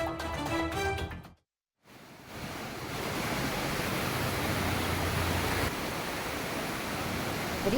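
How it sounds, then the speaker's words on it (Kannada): Floodwater from a breached CDS canal rushes into farm fields in Mandya during continuous rain, a loud steady roar of flowing water after a brief silence. "ಈ ಸಿಡಿಎಸ್ ನಾಲೆ ಒಡೆದ ಪರಿಣಾಮ ನೀರು ಯಾವ ರೀತಿಯಾಗಿ ಜಮೀನುಗಳಿಗೆ ನುಗ್ಗಿ ಹೋಗ್ತಾ ಇದೆ"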